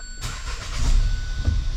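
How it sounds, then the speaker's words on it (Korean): A Kia Morning (All New Morning) small car's engine cranks and catches after a short pause, then settles into a close, steady idle rumble. "시동 한번 켜보도록 할게요."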